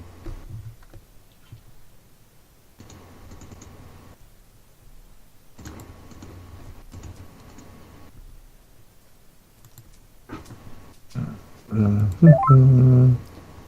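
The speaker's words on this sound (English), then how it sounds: "I think I've actually got it dialing to him" Telephone dialing tones during a call: spaced bursts of dial tone and beeping in a quiet room, ending in a louder run of quick tones near the close, with no talking.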